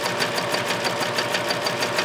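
A serger sewing machine stitching with a cording foot, a steady, loud, close mechanical whir with a fast even pulse throughout.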